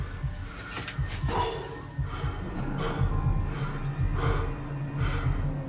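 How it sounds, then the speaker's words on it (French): Heavy, ragged panting of someone out of breath, repeated loud gasping inhales and exhales close to the microphone, no speech. "J'arrive pas à reprendre mon souffle."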